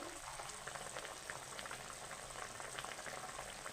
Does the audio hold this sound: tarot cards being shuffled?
no